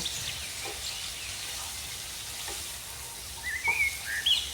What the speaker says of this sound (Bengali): তো এখন এটা আমি পেঁয়াজটাও ভেজে নিব।